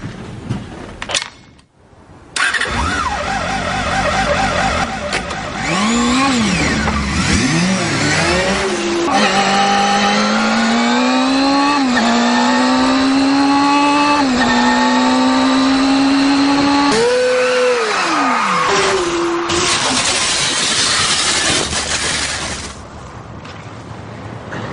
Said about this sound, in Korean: 근데 250cc급 4기통은 윙 막 이런 소리가 나서